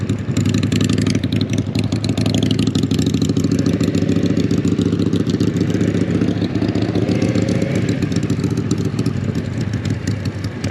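A 2022 Kawasaki Z650 motorcycle engine runs close and steady, with throttle blips and a mid-pitched rumbling drone plus some clatter continuing for about ten seconds.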